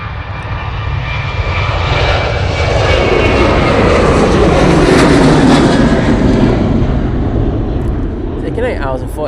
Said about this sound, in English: you can see the Etihad 787-9 Dreamliner coming in from Abu Dhabi.